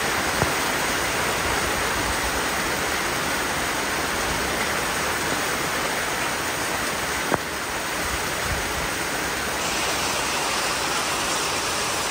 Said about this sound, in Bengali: এপাশে বৃষ্টি হচ্ছে